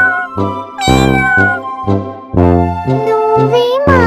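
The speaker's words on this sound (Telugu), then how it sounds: "అక్కడ ఒక పిల్లి కనిపించింది." A cartoon cat in an animated children's story meows several times in quick succession, loud and close, with drawn-out, expressive cries and short pauses between them.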